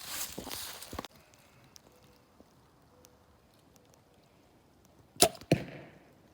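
An Elite Energy 32 compound bow is shot, giving a sharp twang and a thump that rise out of a quiet outdoor background. Softer handling noise and a loud burst of impact follow a few seconds later.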